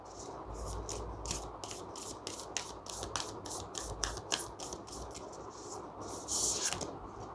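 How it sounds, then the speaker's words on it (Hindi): Tarot cards being shuffled, heard as a quick series of crisp flicking and riffling snaps close by over a quiet background hiss. "2 कार्ड्स आए हैं, मैं वापस शफल करूँगी।"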